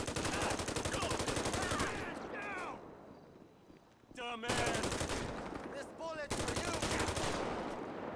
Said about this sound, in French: Ok, là ça tire.